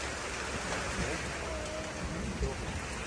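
Steady wash of rain falling outdoors on a rural road to rice fields, with faint distant rumbles and a soft voice murmuring in the background.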